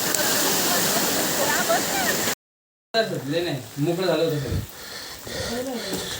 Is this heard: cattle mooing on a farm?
no